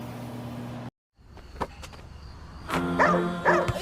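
A pet dog named Enzo barks indoors, a few sharp yips after a brief silence, followed by a louder cluster of barks near the end, close and clear over a low background hum.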